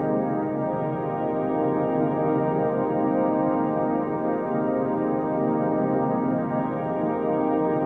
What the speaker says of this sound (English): It's like a little ambient vibe.